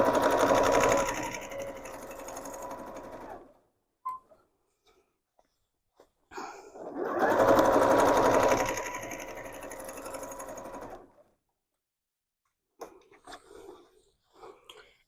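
A domestic sewing machine stitches free-motion quilting through fabric and foam batting in two long, steady runs of whirring, broken by quiet pauses and faint handling noises, close and clear.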